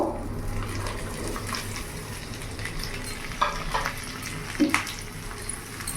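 Capsicum, tomato and onion shallow-frying in butter for kadai paneer, a continuous close sizzle broken by a few stirring scrapes and clinks near the end, with no talking.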